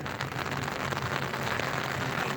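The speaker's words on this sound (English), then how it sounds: "so this rain's starting back up again" Steady rain falls at an outdoor Highland Games field, a dense continuous patter that holds at an even, moderately loud level from start to finish with no talk.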